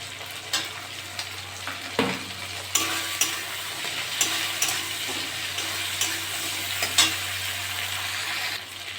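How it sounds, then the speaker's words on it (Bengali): Shrimp and crab frying in a pan with ginger-garlic paste, a steady soft sizzle punctuated by several sharp clinks and scrapes of a spatula stirring against the pan. "চিংড়ি মাছ কাঁকড়াটা ভালো ভাজা ভাজা হয়ে গেছে, আমি 1 চামচ আদা রসুন বাটা দিয়ে দেবো।"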